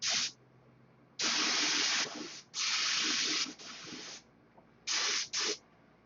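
Spray gun applying lacquer-based paint in a shop gives repeated loud hissing bursts of varying length, with short quiet gaps between passes and no talking.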